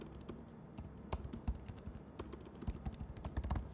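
Close keyboard clatter while Salesforce code is typed, clustered bursts of crisp clicks with short pauses and a few louder key presses, no voices.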